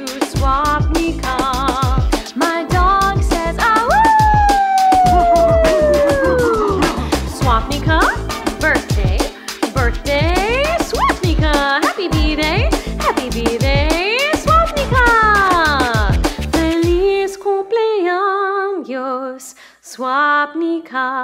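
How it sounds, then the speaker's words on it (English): A dog howls in long rising and falling wails, close and loud, weaving through a cheerful birthday song sung over it, with short yips near the end. "My dog says, woo, to you, Swapnika."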